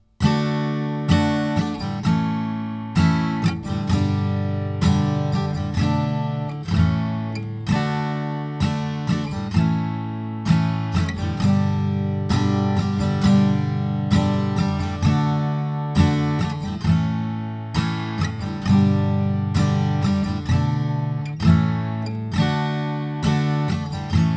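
An acoustic guitar strums the chorus chord progression of a song, with rhythmic, evenly paced strokes ringing through each chord change, close and full with no voices.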